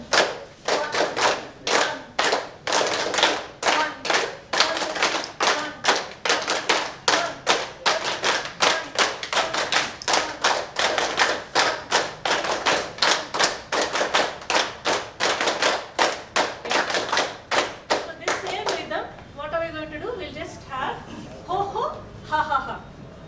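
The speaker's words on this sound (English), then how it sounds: "So clap like this from the next time." A group claps in a steady, even rhythm, loud sharp beats repeating roughly twice a second for about eighteen seconds before the clapping stops and chanting voices take over.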